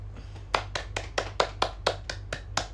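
One person clapping hands during a livestream, about ten slow, evenly spaced claps over a low steady hum, close and moderately soft.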